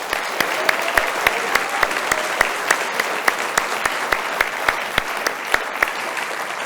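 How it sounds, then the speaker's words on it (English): A warm round of audience applause for distinguished panel guests at an evening discussion event, loud sustained clapping with a few sharp, regularly spaced claps standing out near the microphone. "Let's give a warm round of applause to our distinguished guests"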